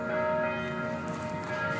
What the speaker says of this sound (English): Do you hear those wedding bells?